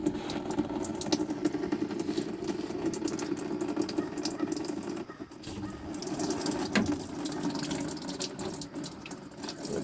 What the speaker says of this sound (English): The excess fuel that was in the filter is draining out.